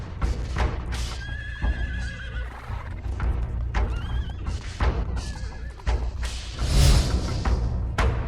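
A horse neighs loudly in a period drama scene, with whinnies rising over clip-clopping hooves and heavy thuds, dense and close throughout.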